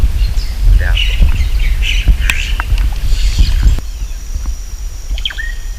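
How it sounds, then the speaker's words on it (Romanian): A bird sings and squawks from a tree beside a hut in the flooded Peruvian Amazon of the Pacaya Samiria reserve, its calls near and repeated over a rumbling boat engine and water noise, which drop away near the end. "Ascultați puțin cântecul acestei păsări. E undeva în copacul din dreapta colibei."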